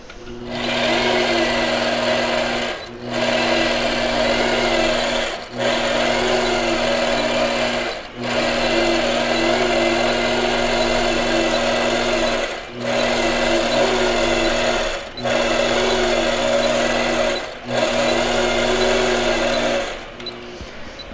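A sewing machine quilting with its stitch regulator engaged gives a loud, steady mechanical whir, broken by short pauses about every two and a half seconds, with no talking.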